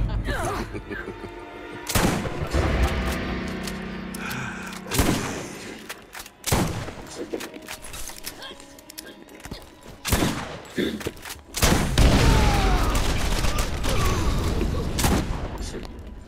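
Bursts of gunfire and a grenade explosion in the video game Borderlands during a player duel, with loud booming hits and rattling volleys recurring throughout, some heavy blasts standing out near the end.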